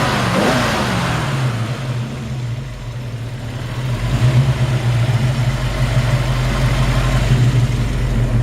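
A freshly rebuilt high-performance Ford 289 V8 in a 1966 Ford Mustang GT350 clone idles steadily up close, with a deep throbbing rumble and a brief rise in revs partway through.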